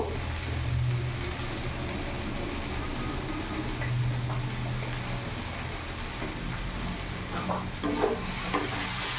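Food being stirred in a pan after ghee is sprinkled over it: a steady close sizzle with soft scraping stirs throughout, a constant moderate frying hiss and no voices.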